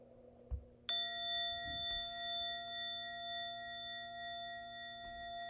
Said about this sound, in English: Now in a moment you're going to hear a bell or a chime.